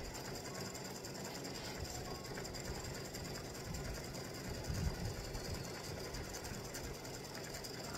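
Sewing machine running a small stitch on a tic tac toe board set, a continuous fairly faint mechanical whir with fine rhythmic clatter, steady throughout.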